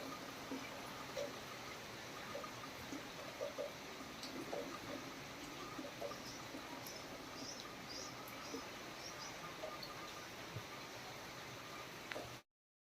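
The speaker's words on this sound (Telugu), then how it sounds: "ఆ వర్షానికి అంత ఫోర్స్లో పడుతుంది వర్షము" Heavy rain pours down hard and steadily, a dense, continuous rushing hiss that fills the whole stretch without a pause and cuts off abruptly at the end, with no one talking.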